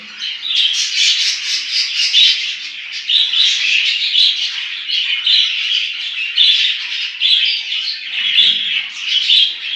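Budgerigars, a home breeding flock with growing chicks, chirp and chatter continuously, a busy, close flock of bright, squawky calls with no voices.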